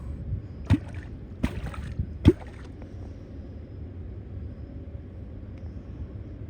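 Three sharp, hollow knocks of a kwok lure striking the water for catfish from a boat in August, spaced under a second apart, then a low steady drone of open water with no talk.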